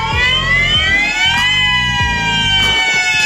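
A wailing emergency siren sweeps up and down, loud and continuous, with rhythmic low pulsing beneath it, playing alone with no voices.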